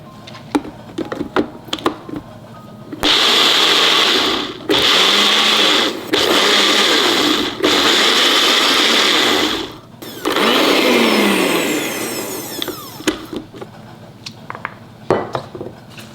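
A kitchen blender grinds soaked mung beans in several loud whirring runs with brief stops and pitch dips as the load shifts, framed by clinks and handling knocks before and after.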